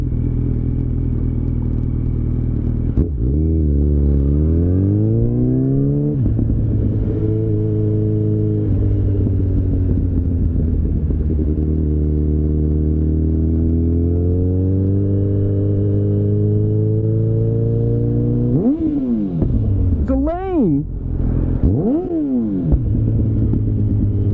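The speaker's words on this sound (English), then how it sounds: "it's fun because it makes turbo noises and it's a standard, so like you actually have to shift" A turbocharged car with a manual transmission drives along, its engine rumbling and rising in pitch through each gear, with clear drops between gears as it shifts, close and steady for the whole stretch.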